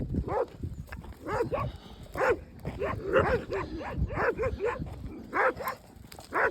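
Several shepherd dogs bark in repeated bursts, fairly close, with some higher yelping mixed in over an open outdoor background.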